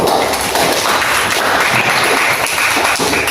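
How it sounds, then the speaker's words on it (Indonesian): Classroom applause for a student group after its presentation, a thick continuous patter of many hands clapping at a steady, fairly loud level with almost no talk over it. "tepuk tangan untuk kelompok 1."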